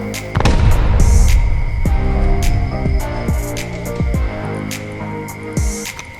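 A heavy explosion bursts out near the start in the game Rust, followed by scattered thuds and crackling debris that fade over several seconds, with a steady synthetic tone underneath.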